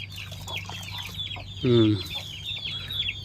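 Chickens cluck near and far in a rural poultry setting, with scattered short calls and one louder, drawn-out squawk near the middle over faint background noise.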